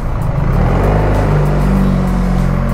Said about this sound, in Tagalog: Traffic lang talaga dito sa Manila, no?